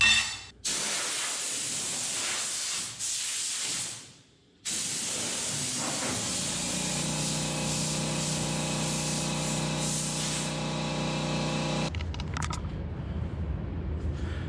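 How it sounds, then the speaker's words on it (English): An air compressor in a race car body-building shop hisses loudly in long continuous bursts, with a brief pause and a steady running hum that shifts in tone before stopping abruptly. "We're gonna trigger that stupid air compressor."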